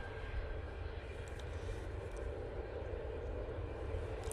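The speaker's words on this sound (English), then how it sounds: "Coming in from Belfast using their A320" An EasyJet Airbus A320 arriving from Belfast at Manchester Airport makes a steady, fairly distant jet rumble with a faint whine, continuous through the short stretch.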